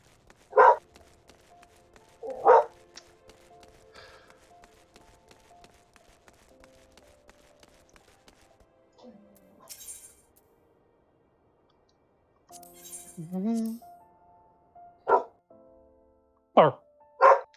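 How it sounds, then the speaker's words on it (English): A street dog attacks in the Royal Promenade in Final Fantasy XIV, giving several short, sharp, spaced barks over faint game sounds, with brief voice sounds in between. "I'm being attacked by a street dog."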